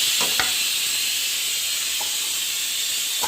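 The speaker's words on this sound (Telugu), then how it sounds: "ఈ క్యాప్సికమ్ పీసెస్ తీసుకొని ఇందులో వేసేద్దాం." Capsicum pieces hit a hot pan and sizzle with a steady, loud hiss, a few faint clicks and scrapes of the spoon poking through the continuous frying noise.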